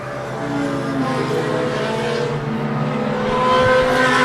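Outlaw Mini race cars roar past on an oval track during a late-race lap, a steady loud engine drone swelling slightly as the pack passes, heard alone without talk.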